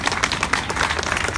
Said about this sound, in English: Keep clapping. They deserve it.